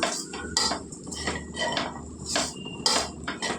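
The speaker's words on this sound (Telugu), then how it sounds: "అయితే బాగా కలిపేసుకుందాం." A spoon mixes flattened rice poha with lemon juice in a metal vessel, giving repeated loud clinks and scrapes in an uneven rhythm, close by, with no voices.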